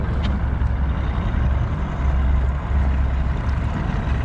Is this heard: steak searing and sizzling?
no